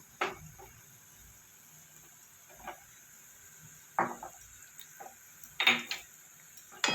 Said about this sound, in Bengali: এবার এটাকে একটু নাড়াচাড়া করে নেবো।